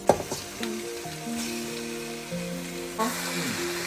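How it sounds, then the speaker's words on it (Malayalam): Spice powders sizzle steadily in hot oil for a chicken curry, a continuous crackling hiss with a tonal melody running over it. "പൊടികളെല്ലാം കൂടെ വറുത്തിട്ട് എണ്ണ ഒഴിച്ച് മിക്സ് ചെയ്തിട്ടാണ് ചിക്കൻ കറിയിലിടുന്നത്"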